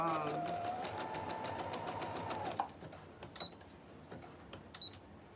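A sewing machine stitches an Ankara bonnet, a fast steady whirring run lasting a couple of seconds before stopping abruptly, followed by quieter scattered clicks and handling sounds.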